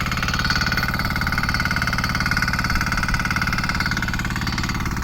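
The diesel engine of a Dever 990 Pro walking tractor idles steadily and close by in a cornfield, a rapid even chugging with a rattling mechanical knock, running continuously without pause.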